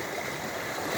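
Water from a small creek waterfall pours in a steady, broad rushing wash, close and continuous with no voices.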